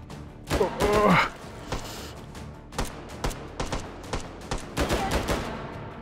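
Gunshots ring out in the VR shooter Hot Dogs, Horseshoes & Hand Grenades: a quick double burst, then a string of sharp single cracks at uneven intervals, loud and close.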